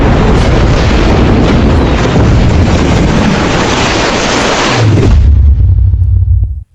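A loud, sustained explosion roar from a bomb blast in a casino action film scene, filling the clip for about five seconds before dropping to a low rumble and then cutting off.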